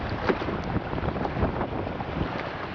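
Steady wind gusting across an open fishing boat on San Francisco Bay during the fall striped bass run, buffeting the microphone with continuous broadband rumble and hiss, loud and unbroken throughout.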